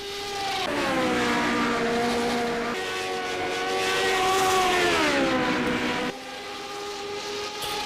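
Formula 1979 race car in rFactor 2 at the Österreichring, engine note dropping in steps as it brakes and downshifts, loud and close throughout, then a sharp cut to a new engine pitch near the end.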